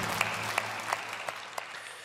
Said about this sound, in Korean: 우리를 구원하신 하나님께 영광과 감사의 박수 올려드리시겠습니다.